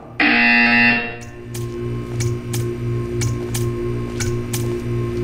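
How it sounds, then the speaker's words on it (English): A loud harsh buzzer in the video game Portal 2 blares for about a second, followed by a low hum and a run of evenly spaced ticking clicks. "You will hear a buzzer."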